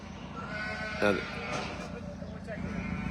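Lambs bleat on a farm as they are moved out to the fields, one clear close bleat standing out over steady background noise, with a voice speaking nearby.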